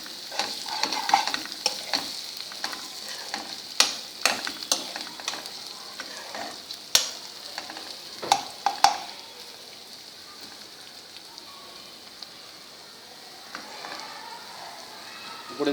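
Onions sizzle in a pan with ginger garlic paste for an Andhra prawn curry, while a spoon scrapes and clacks in irregular bursts over a steady frying hiss.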